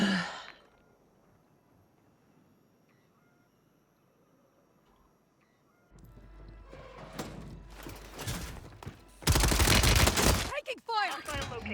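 Video game gunfire erupts after a quiet stretch, building into dense bursts with a loud rapid volley near the end, mixed with in-game effects and short breaths or sighs.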